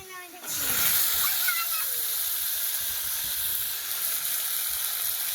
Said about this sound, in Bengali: এখন আমি মশলাটা দিয়ে দিচ্ছি।